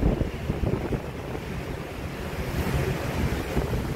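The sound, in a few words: sea waves during typhoon in Macau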